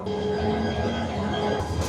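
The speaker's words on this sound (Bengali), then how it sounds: "প্রায় তিরিশ মিনিট পরে আসলো কালনির ইঞ্জিন" Kalni Express diesel locomotive arriving to be coupled to its train on the Dhaka to Sylhet line, a steady close engine rumble with humming tones, rising slightly near the end.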